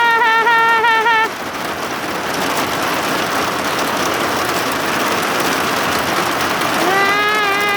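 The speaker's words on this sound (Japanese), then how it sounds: "すごい雨。" Heavy rain during a thunderstorm pours down in a loud, dense hiss that continues without a break. Brief tonal chimes sound at the start and again near the end.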